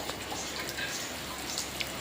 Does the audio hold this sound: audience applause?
no